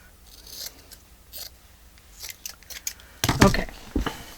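Scissors snip through paper while trimming a corset-shaped journal topper, a few quiet cuts early on followed by a louder, close crunching cut near the end, with no talking.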